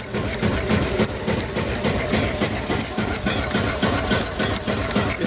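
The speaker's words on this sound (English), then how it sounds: "So that's our belt running," A homemade wood-fired Stirling engine drives an alternator by belt, giving a steady rhythmic mechanical chugging and clatter with continuous running noise, close and moderately loud.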